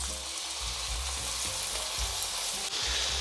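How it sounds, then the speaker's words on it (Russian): Chicken fillet frying in a preheated pan for a Greek-style dinner, a loud continuous sizzle and crackle close up, with a few soft pan knocks and no talk. "Выкладываем куриное филе на разогретую сковороду."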